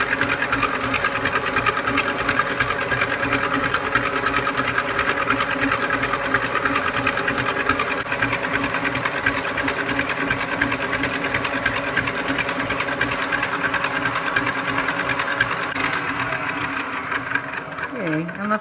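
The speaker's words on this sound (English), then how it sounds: "we're just going to turn the mixer on. And let them get frothy" An electric mixer whips egg whites in a bowl for meringue, giving a steady, loud motor whir that runs without a break and winds down near the end.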